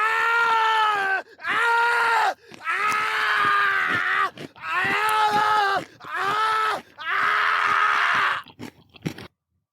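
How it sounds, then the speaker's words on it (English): Horror audio-drama effect of bones being crushed amid screams, a run of long wailing cries broken by short gaps, with wet crunching layered underneath, loud and close, ending abruptly. "With the sounds of crushing bones and screams filling the air"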